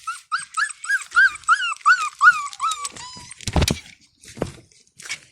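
Young puppies whimper in a quick series of high, rising whines close by, followed by a few scuffling noises and scattered softer cries.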